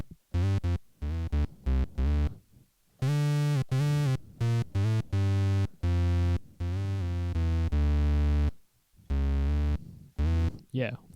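Synth bass for a beat-battle track run through a HotSolo guitar amp distortion plugin, a gritty, harmonically rich line of short stabs and held notes in a busy rhythm, loud and alone.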